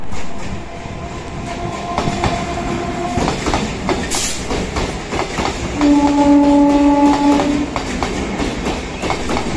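A train rolls into a station with steady rumble and wheel clatter, and a loud horn blares for a couple of seconds near the end.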